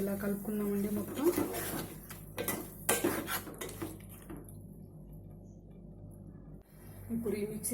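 Chicken curry being stirred with a ground spice paste in a metal pan, a utensil scraping and clinking against the pan in irregular bursts, fairly close, with a quieter stretch in the middle.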